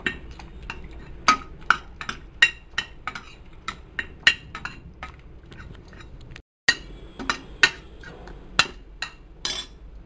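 Cooked snake gourd for erissery being smashed in a metal pot, with sharp clanking strikes at an irregular beat of about one per half second, close and clear, broken by a brief gap.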